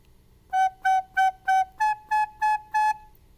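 Recorder plays eight evenly spaced, clear eighth notes: four on G, then four a step higher on A, bright and close with nothing else behind them.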